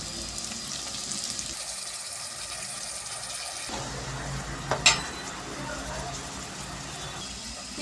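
Tomato pieces go into hot oil while mandakki oggarane is prepared, bringing a soft steady sizzle with stirring and a sharp clatter near the middle; a voice speaks quietly in the background.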